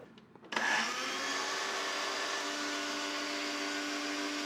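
A kitchen mixer grinder switches on with a sudden jolt and settles into a loud, steady whirring drone as it grinds, running continuously and close by with no talking.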